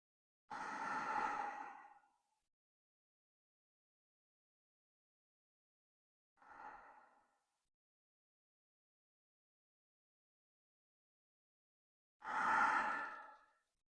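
Slow deep breaths during a hatha yoga pose: three separate long exhales, the first and last loud and airy, a softer one in between, spaced by long silent pauses with no talking.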